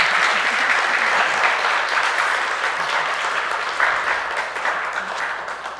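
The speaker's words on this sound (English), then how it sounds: "Another round of applause." Sustained audience applause at a tech talk's close, a dense, steady wash of many hands clapping throughout, loud and close, with faint voices mixed underneath.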